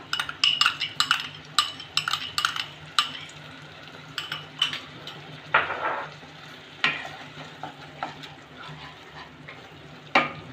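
Whisked yogurt stirred into a sizzling spice paste in a pan for Bengali doi potol posto, with a soft frying hiss under repeated sharp clinks and scrapes of a spoon against the pan.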